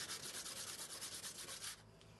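Rhythmic back-and-forth sanding strokes scratch over a super-glued wooden joint on a homemade Les Paul-style guitar body, close and steady before stopping near the end.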